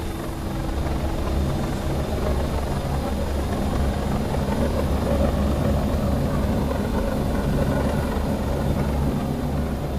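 An aircraft in the Second Life virtual world takes off with a steady, loud engine and rotor-like drone that holds constant throughout, with no talking.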